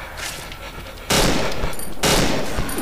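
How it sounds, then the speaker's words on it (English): Gunshots in the horror game Cry of Fear, two loud, abrupt blasts about a second apart, each leaving a sustained noisy roar over a dense background. "look at those perfect shots by me"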